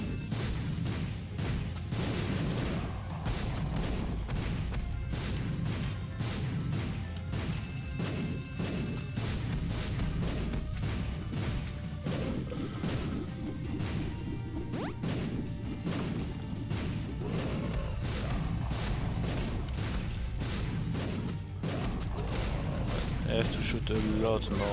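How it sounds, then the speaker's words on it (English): Repeated bomb explosions in The Binding of Isaac, a dense run of booming blasts and crashes layered over busy game music and effects, with a voice talking over the action. "It's really hard to tell the radius of these explosions."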